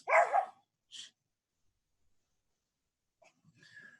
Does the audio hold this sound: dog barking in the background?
yes